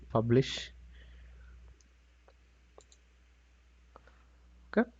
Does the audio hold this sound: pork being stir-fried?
no